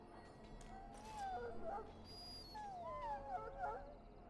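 A Mabari war dog in Dragon Age Origins gives soft, whining whimpers in two drawn-out bursts, moderately close, over a low background hum.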